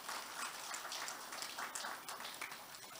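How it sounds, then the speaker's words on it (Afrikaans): A church congregation applauding together, a faint but steady patter of clapping spread across the room that continues evenly throughout with no distinct voices. "Kom ons gee vir hulle lekker hande klap."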